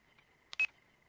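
Two quick electronic telephone-dialing beeps from a PS2 video game, faint and brief against near silence.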